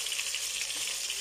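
Potato pancakes (draniki) fry in a covered pan, giving a quiet, continuous sizzle and crackle with no break.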